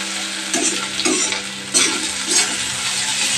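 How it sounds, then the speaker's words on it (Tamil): Ivy gourd (kovakkai) sautéing in oil with mustard seeds in a pan, a steady close sizzle with intermittent stirring scrapes rising every second or so, no voices. "கோவக்காவை போட்டு நல்லா எண்ணெயிலே வதக்குறோம்."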